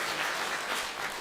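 A church congregation claps together at a Sunday worship service, giving a dense, steady wash of applause from many hands filling the hall, with no voices rising above it.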